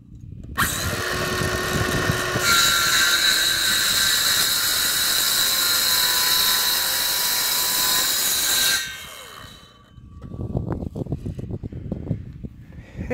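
A power saw makes an angled cut through a wooden board on a porch and rafter build, a loud steady whine running about eight seconds before cutting out, followed by lighter knocks and handling noise.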